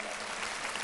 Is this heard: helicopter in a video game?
no